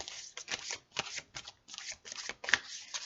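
Unicorn oracle cards being shuffled for a reading, a close, soft papery riffle in repeated bursts with short pauses, quiet and without talk.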